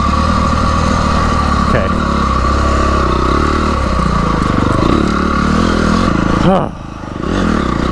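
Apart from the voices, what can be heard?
motorcycle engine riding on trails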